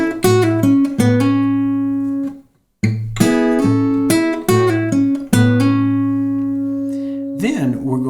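Clean guitar phrase of plucked notes with hammer-ons and a pull-off on the third string over low bass notes, ringing and sustained, with a short pause partway through and a slide near the end; played alone and close.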